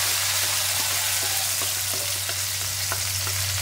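Garlic and onion sauté in hot oil, producing a dense, even sizzle with faint repeated scrapes of a utensil and a steady low hum underneath, close and continuous.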